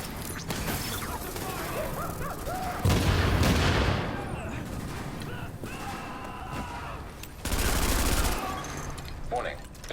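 Bursts of gunfire in The Division shooter game rattle alongside booming impacts and explosions, with heavier thumps around the third and eighth seconds and voices over the combat.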